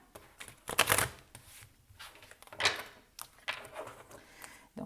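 Oracle cards shuffled and spread by hand in a quiet room, with several short papery riffling bursts separated by pauses; no voices.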